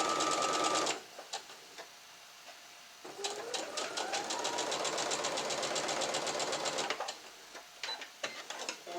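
A domestic sewing machine stitching sashing onto a quilt block runs in a steady, rapid whirring rhythm, with a brief burst at the start and a long continuous run of about four seconds, heard up close.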